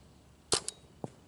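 Paintball marker firing at a target, two quick sharp pops close together followed by a softer thud just after, brief and fairly faint in a quiet outdoor setting.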